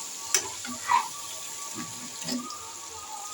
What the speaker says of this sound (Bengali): এরপর ভালো করে নাড়িয়ে নেব